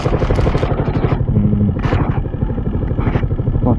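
A Zontes U125 off-road-leaning motorcycle rides over stones, its engine thrumming loud and close with rattling clatter and knocks from the rocky ground, no talk over it.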